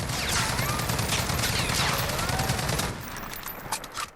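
Rapid bursts of L22A1 hip-fire gunfire in Call of Duty Modern Warfare, loud and dense for about three seconds, then a few scattered shots and trailing impacts as the firing tapers off.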